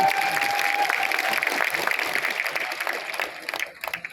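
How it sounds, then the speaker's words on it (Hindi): An audience at a motivational seminar gives loud applause: a dense wash of clapping from a roomful of people that holds strong, then thins and tapers into scattered claps near the end. "जोरदार तालियां इनके लिए।"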